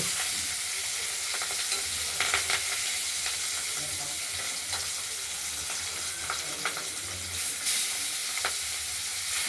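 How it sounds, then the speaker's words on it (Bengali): Pabda fish pieces fry lightly in oil, producing a steady, close sizzle with scattered crackles and soft stirring sounds throughout. "মাছগুলো দিয়ে দিলাম। একটু হালকা ভেজে নেব।"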